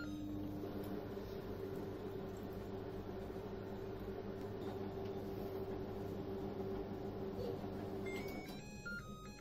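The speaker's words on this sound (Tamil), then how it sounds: "இப்போ just 1 minutes மட்டும் உள்ள குட்டி மைக்ரோவேவ்ல வெச்சுக்கலாம்" Small microwave oven humming steadily for about a minute while heating a dish, a constant low drone with faint beeps near the end.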